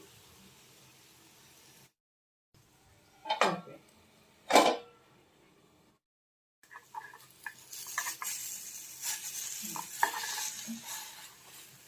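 Pongadalu batter cooks in a greased pan, poured in with a couple of sharp scraping knocks, then settling into a faint steady sizzle with light spatula taps, heard close and quiet.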